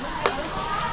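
Onions sizzling in a pan at a seaside cook-up of clams, a steady close frying hiss with a single scrape of a spatula early on, no talk.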